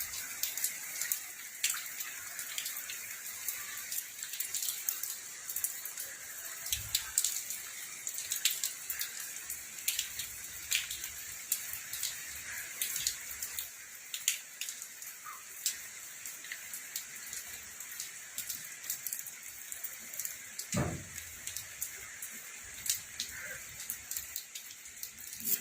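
Rain falling outdoors, a faint, steady patter of drops with scattered sharper ticks on a surface, continuous and distant, with no voices.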